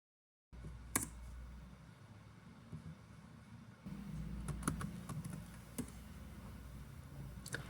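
Computer keyboard typing while entering message text, with scattered key clicks and a few sharper taps over a low background hum, fairly quiet and close.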